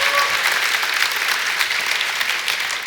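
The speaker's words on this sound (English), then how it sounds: "give yourself a round of applause." A church or conference audience breaks into steady, dense applause that fills the whole stretch evenly, loud and close with no break or talk over it.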